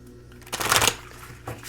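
A deck of Charm Cards oracle cards by Mystic Moon is shuffled up close in one quick, crisp riffle of paper cards that lasts under half a second.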